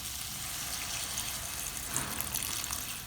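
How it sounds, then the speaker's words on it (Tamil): Water is poured from a 250 ml cup into a pot of mixed vegetables for sambar, giving a steady, close, splashing rush with no speech. "நான் வந்து டூ ஃபிஃப்டி எம்எல் அளவு கப்பில் வந்து தண்ணி சேர்த்துக்கிறேன்"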